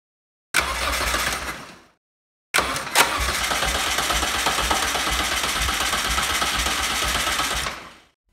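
A project car engine without fuel cranks over through a bypass switch, giving a short starter burst, a pause, then a longer steady rapid whirring crank that stops abruptly, loud and close with no speech.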